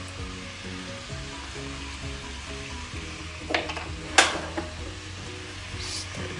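Seasoned food frying in a pan, giving a steady low sizzle with a low background hum, then a few sharp scraping and clattering stirring strokes near the end, close up.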